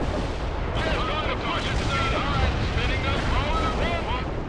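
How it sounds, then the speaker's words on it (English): Heavy artillery barrage in the real-time strategy game World in Conflict: a dense, continuous rumble of blasts and booms, with whistling tones sweeping over it, loud and unbroken throughout. "Heavy artillery barrage inbound."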